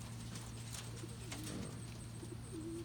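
Pigeons in a loft in Richmond, Kentucky give soft, low cooing calls over a steady background hum, faint and close-ish, with no talking.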